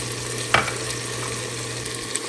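Aloo baingan base of tomatoes with red chilli, turmeric and spices frying in a pan, a soft continuous sizzle with one brief stirring clatter, no talk.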